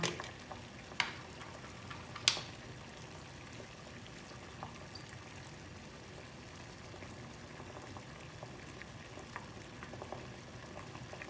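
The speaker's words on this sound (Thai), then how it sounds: "น้ำเดือดแล้วพี่ก็จะใส่นะคะ" A pot of water bubbling at a steady low boil for Thai fish-innards curry, soft and continuous, with a couple of faint clinks near the start.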